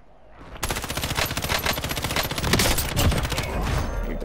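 Dense automatic gunfire and sniper shots crackle through a video game firefight, starting abruptly after a quiet half second and then rattling on continuously and loudly with rapid overlapping bursts.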